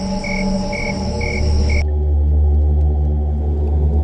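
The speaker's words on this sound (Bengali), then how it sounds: "শুধুমাত্র ঝিঝি পোকার ডাক শোনা যাচ্ছে" Crickets chirp at night in a creepy spot before an abandoned house, a steady insect trill under a low ambient hum; the brighter chirping cuts out partway through, leaving a darker background drone.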